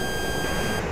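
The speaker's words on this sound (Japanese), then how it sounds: "レーダー警報だぜ。" A radar warning tone sounds in the cockpit of an F-15E in the DCS flight simulator, a steady electronic beeping held throughout, with no voices over it.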